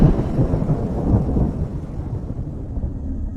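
A loud thunder crack, used as a sound effect in a Hindi horror story, rolls out into a deep rumble that fades over a few seconds with a faint rain wash beneath.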